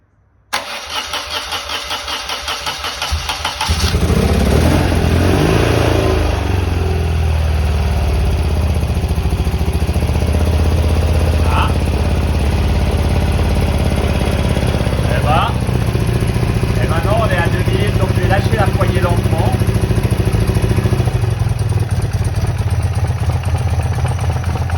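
A BMW R80 R motorcycle cranks briefly and fires up after a few seconds, then settles into a loud, steady idle held for the rest of the clip, with occasional faint voices underneath.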